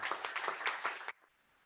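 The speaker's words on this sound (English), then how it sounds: "Can we please clap for NC?" Participants in an online meeting applaud briefly, a short patter of quiet, scattered claps that stops abruptly after about a second.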